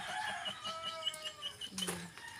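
Chickens cluck and call near their coop, close and fairly quiet, with a rooster-like call and a brief flutter of wings against faint background hum.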